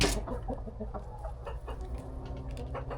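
Several giant Orpington chickens and roosters cluck and fuss close by in a coop, a steady jumble of short calls, with a low farmyard rumble running underneath.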